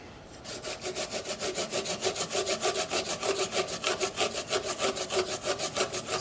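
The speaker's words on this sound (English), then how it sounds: "we have a good sized piece of ginger. I'm going to use a microplane and just grate it up." Fresh ginger grated on a microplane, a loud, close, steady rasping in quick regular back-and-forth strokes that runs without pause.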